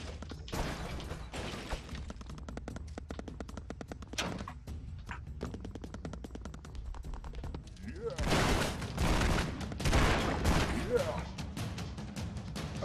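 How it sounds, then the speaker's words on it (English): Rapid minigun fire in the Expendabros video game, a dense crackling burst that swells loud partway through over other game gunfire and effects, with a voice talking at times. "Oh yay, I've got a minigun now."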